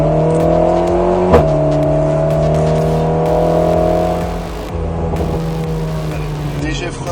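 An Alpine A110 S engine drones loudly at high revs on a race circuit at full throttle, its pitch holding steady and then dipping briefly before climbing again, with someone talking over the noise.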